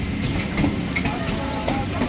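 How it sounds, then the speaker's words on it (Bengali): A local train at Krishnanagar rolls past close by with a steady mechanical rumble, clattering wheels and a faint squeal, continuous throughout. "ফাঁকা ট্রেন যাচ্ছে নাকি?"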